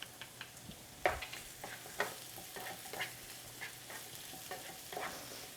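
Garlic stirred quickly into hot, glossy vegetables in a pan for a vegetable stir-fry, giving a soft continuous sizzle with a few sharper spatula scrapes roughly once a second, with no talking.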